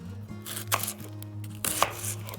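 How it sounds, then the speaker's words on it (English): Onion being chopped with a knife on a board at a campsite breakfast, a few close, sharp knife strikes in an irregular rhythm with no talking. "I just wanna go ahead and get my onion cut up anyway."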